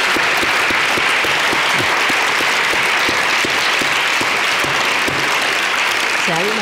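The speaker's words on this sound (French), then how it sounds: "On va les applaudir, si vous voulez bien." An audience claps steadily and loudly throughout, a dense wash of applause with a voice briefly audible near the end.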